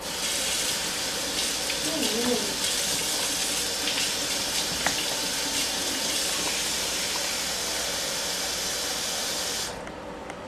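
Warm water streams steadily from a tap with a broad, hissing rush that stops abruptly near the end.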